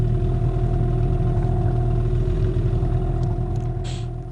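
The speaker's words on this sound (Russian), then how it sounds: "Поднялись немного на моторе, чтобы еще разик проплыть это место" The outboard motor of a fishing boat out for perch drones steadily and loudly close by, a continuous mid-pitched engine hum with light clatter and no voices.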